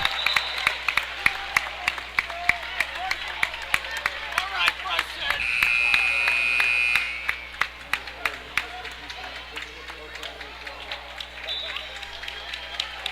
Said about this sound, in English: Applause from both sets of fans.